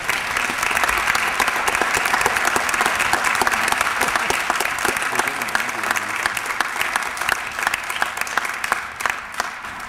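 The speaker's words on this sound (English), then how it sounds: "give a big round of applause for Dennis Sherman" Sustained applause from an audience at a 2012 Barton sports hall of fame induction ceremony fills the hall with dense, steady clapping that stays loud throughout before gradually thinning near the end.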